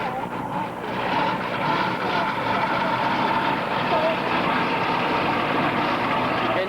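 A pulling tractor called the Kidnapper, powered by a Rodak engine, roars steadily and dense at a distance, a continuous mechanical drone with an announcer's voice faintly over it.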